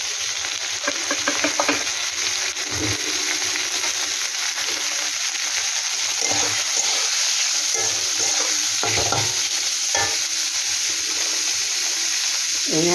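Chicken frying in hot oil in a pan gives a loud, steady sizzle throughout, with faint stirring clatter and scraping underneath.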